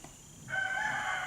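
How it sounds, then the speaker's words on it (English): A rooster crows once, starting softly and then rising into a clear, sustained call at moderate distance. No one speaks. "Every time I hear a rooster crow"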